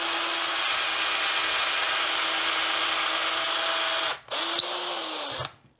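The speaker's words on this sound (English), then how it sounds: "And you can see it's cutting the end." A woodturning lathe trims the end of a soft wood slimline pen blank, a steady loud whirring drone with a high whine, cutting off briefly near the end before resuming and then stopping.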